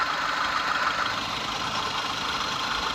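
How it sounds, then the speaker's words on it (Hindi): A car engine idles steadily after repairs including a new chain and an additional water pump, with a pickup fault; a continuous, fairly loud broadband hum runs evenly throughout with no talk. "और गाड़ी स्टार्ट है"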